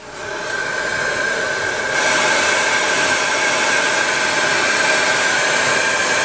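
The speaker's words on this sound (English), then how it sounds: "Now just a little with the airbrush." An airbrush sprays varnish onto a scale model, giving a close, continuous airy hiss that grows slightly louder partway through and stays steady to the end.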